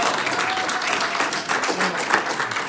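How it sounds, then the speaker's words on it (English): An audience at a training session gives a round of applause, steady and fairly loud clapping from many hands filling the room without a break. "Guys, one more time, let's give them a round of applause."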